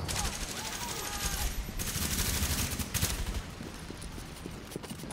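Rapid gunfire from a firefight in the video game The Division, dense overlapping shots crackling close and continuous, with voices talking over it.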